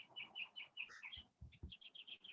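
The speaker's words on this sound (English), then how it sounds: "I can hear those birds chirping." Small birds chirp outside the front of a home, with repeated bright tweets in a quick, steady series and a few low thumps between them, heard faintly at a modest distance.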